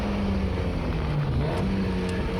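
A Mazda MX5 pushed hard around the Oulton Park circuit, its engine holding a steady, droning note with a slight pitch dip, heard continuously from close by.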